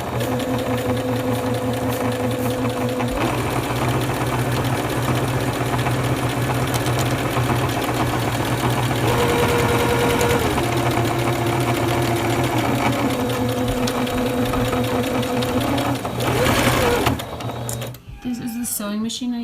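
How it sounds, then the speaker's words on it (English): A Singer Confidence sewing machine stitches thick fabric for a weighted vest, running in a steady mechanical hum with rhythmic needle chatter and changes of speed. A voice talks over it for most of the clip. "It's a Singer Confidence, and it is by far my favorite sewing machine I've ever had."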